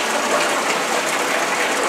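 Irrigation water driven by a cycle timer system gushes loudly and steadily from an outlet while onions are being planted, a close, continuous rushing flow with no voices.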